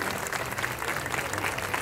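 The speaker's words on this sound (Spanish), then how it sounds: "¡Fuerte las palmas para ella!" Crowd at a traditional verbena criolla festival in Lima applauds for the Virgen del Carmen, a dense, continuous wash of clapping throughout.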